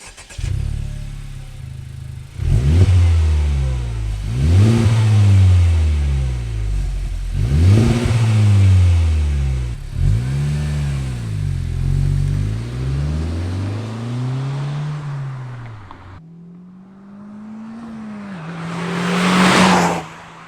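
A Honda Civic Type R engine revs hard through several rising gear pulls, each climb ending in a drop at the shift, then settles into a steady drone and a closing rev, loud and close with no talking.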